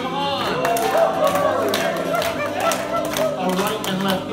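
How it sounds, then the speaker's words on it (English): Square and round dance club dancers cheering and clapping at a club dance, a lively crowd of claps and whoops running steadily under a caller's voice and music. "Sides, cheer them on."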